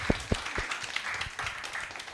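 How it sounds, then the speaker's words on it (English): Audience at a photo exhibition launch gives a short, sparse round of applause, a few distinct claps up close over a light patter of clapping. "let's give him a round of applause"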